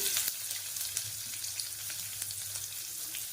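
Chopped onion with mustard seeds and cumin frying in hot oil for a South Indian dal tempering, a steady close sizzle and crackle with a few soft stirring knocks.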